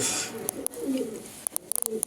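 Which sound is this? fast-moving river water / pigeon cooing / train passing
pigeon cooing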